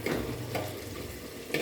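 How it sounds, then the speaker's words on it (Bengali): Masala frying in oil over a low flame is stirred, giving a continuous soft sizzle with scraping stirring strokes against the pan, close and alone. "আস্তে আস্তে মশলাটা কষিয়ে নিচ্ছি"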